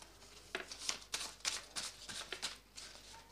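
Tarot cards are shuffled by hand, producing a short run of soft, rapid riffling bursts about every half second, close and quiet.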